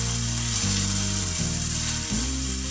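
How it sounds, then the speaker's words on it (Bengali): Onions and a blended ground spice paste sizzle steadily in a pan over a medium-low flame, a continuous close frying hiss with a low tonal hum underneath. "মিডিয়াম ফ্লেমে রেখে ততক্ষণ ভাজতে থাকবো যতক্ষণ না পেঁয়াজের রংটা চেঞ্জ হয়"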